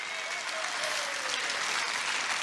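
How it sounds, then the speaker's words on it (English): A large crowd at a Donald Trump rally in Cedar Rapids, Iowa claps loudly and continuously, a dense, even roar of applause filling an indoor venue. "Keep your applause going for the Honorable Ashley Hinson, Iowa State Representative."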